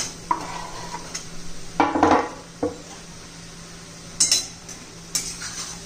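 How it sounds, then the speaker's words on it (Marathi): Raw banana slices dropped into hot oil and stirred, a few sharp clinks and scrapes of a utensil against a pan over a faint sizzle, close and intermittent, no talking. "आता आपण हे कच्च्या केळीचे काप घालून घेणार आहोत"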